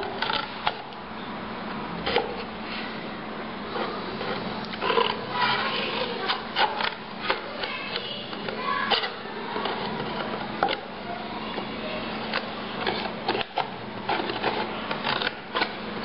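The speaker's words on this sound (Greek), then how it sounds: "Στη συνέχεια κόβουμε τις δύο πλευρές του κουτιού, όχι μέχρι κάτω." Cardboard box sides being cut, a steady scraping, rasping run of blade-through-card noise with irregular clicks and snips, fairly close and continuous, with no talk.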